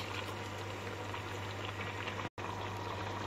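Chicken stew with cabbage simmering in a pot of water, a steady close bubbling and rolling boil that runs continuously, with a brief dropout near the end.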